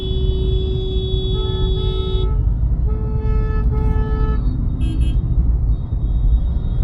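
Car horns honk from a vehicle behind in congested city traffic, a steady tonal blare lasting about two seconds, then several shorter toots, loud over the constant road rumble of engines around.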